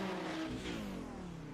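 Race car engine in the iRacing sim at Imola, a GT car stuck in neutral, revving steadily with a sustained droning note that slowly falls in pitch, alone and fairly loud.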